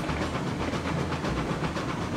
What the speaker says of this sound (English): There's our log train.